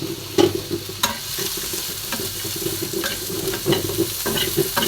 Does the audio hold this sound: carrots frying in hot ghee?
yes